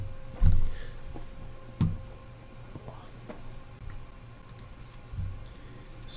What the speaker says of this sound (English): Has to be official, so we'll roll the dice.